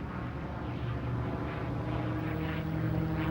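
A P-51 Mustang propeller fighter in flight, giving a steady, loud, droning engine roar that holds constant throughout with no voices.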